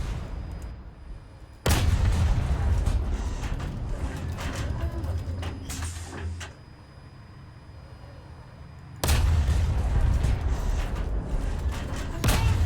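Bkan 1C self-propelled artillery firing in the tank video game War Thunder: two heavy, loud booms, each followed by a long rumbling tail, with a quieter stretch between them.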